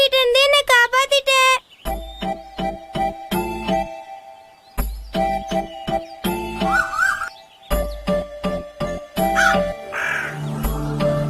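Cartoon crows caw repeatedly in short bursts over an animated nursery story's music, with bright chirps and jingles mixed in; the calls come close and loud in a busy, choppy scene.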